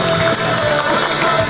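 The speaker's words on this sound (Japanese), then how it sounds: "ほら拍手です" Loud crowd noise during a freestyle skateboard demonstration at Koshigaya Laketown shopping mall, a dense continuous wash of clapping and cheering from spectators that stays close and full throughout a brief burst.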